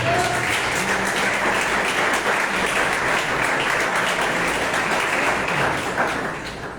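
A church audience claps in sustained, dense applause, loud and even throughout before easing off at the close, with faint voices mixed in beneath.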